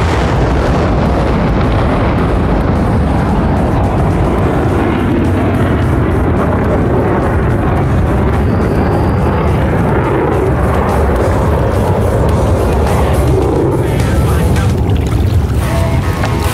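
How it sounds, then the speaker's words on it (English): Twin General Electric F414 engines in maximum afterburner on a Rhino Demo Team jet at an air show, a loud, dense roar that rumbles on without pause for the whole stretch. "the raw power of the two twin General Electric GEF414 Tech 400 engines in maximum afterburner"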